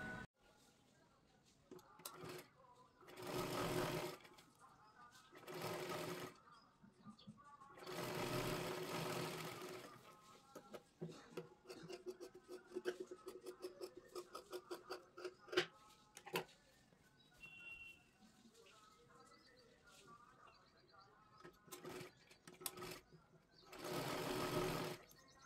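A sewing machine runs in several short, loud stitching bursts while a 38-size princess-cut blouse is stitched, with a voice talking quietly between the runs.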